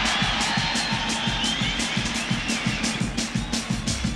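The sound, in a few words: Woodstock festival crowd cheering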